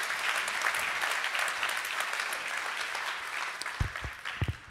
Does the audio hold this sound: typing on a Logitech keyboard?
no